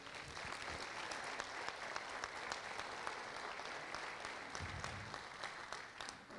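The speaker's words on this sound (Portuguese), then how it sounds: "Acho que a gente podia aplaudir o Senhor." A church congregation applauding, dense sustained clapping from many hands filling the room, fairly distant and even throughout.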